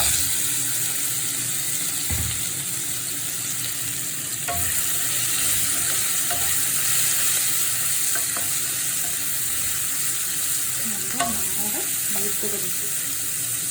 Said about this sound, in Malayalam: ഉള്ളിയും വെളുത്തുള്ളിയും ഏകദേശം മൂത്ത് വന്ന് ഇനി നമുക്ക് ചക്കക്കുരു വേവിച്ചത് ഇട്ട് കൊടുക്കും